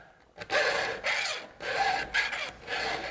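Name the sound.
filing a chainsaw chain with a sharpening file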